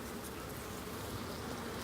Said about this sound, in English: There's so many bees. They're everywhere.